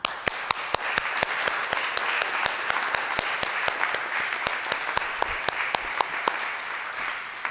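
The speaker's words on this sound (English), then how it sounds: "So please join us in a round of applause for them." A round of applause from an audience at an old-time radio show recreation, steady clapping throughout with a few sharp, close individual claps standing out.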